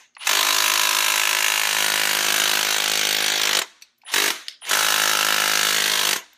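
Loud, close impact wrench hammering at bolts on the AC compressor of a VR6 engine during a teardown, one long burst, then a short one, then another long burst, each starting and stopping abruptly.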